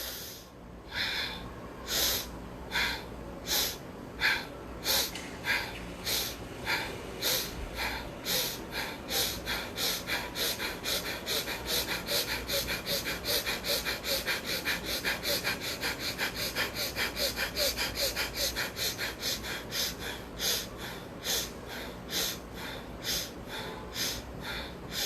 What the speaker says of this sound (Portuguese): Inspirar, enchendo. Expirar, esvaziando.